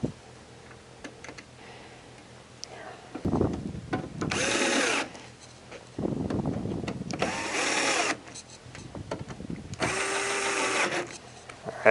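Power drill driving screws into a furnace blower assembly in several bursts of whirring, separated by quieter pauses with clicks and handling noise.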